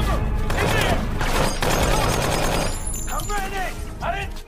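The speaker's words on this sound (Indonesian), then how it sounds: "hingga baku tembak tak dapat dihindarkan" Gunfire in a Walking Dead shootout, a burst of shots and impacts under dense dramatic scoring and shouting voices, loud and continuous before fading slightly at the end.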